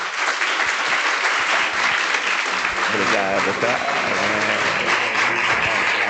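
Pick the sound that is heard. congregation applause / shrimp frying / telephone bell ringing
congregation applause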